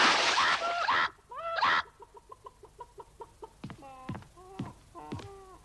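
A chicken clucks in a close, repeated string of short calls, with louder squawks toward the end after a burst of noise at the start.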